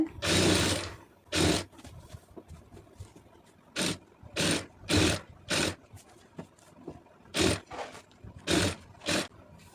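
A sewing machine stitching a fall onto the inner side of a saree, running in about eight short separate bursts with pauses between, close and fairly loud with no talking.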